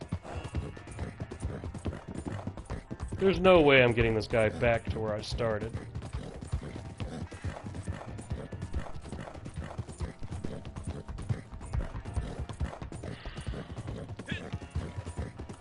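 A horse gallops in Red Dead Redemption 2 online, its hooves clip-clopping in a fast, even rhythm that runs throughout while someone talks over it briefly.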